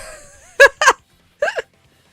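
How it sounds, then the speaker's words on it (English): Three sharp, croaky hiccup-like vocal bursts, the first two close together and a third after a pause, loud and near with no talking around them. "When I hiccup, I sound like a frog"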